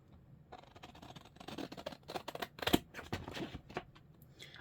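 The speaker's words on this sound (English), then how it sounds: "I'll do the big bits with the big scissors." Large scissors cut through card from a file folder while a botanical journal is being made. Close, crisp snips come in an irregular run, mixed with paper rustling and handling.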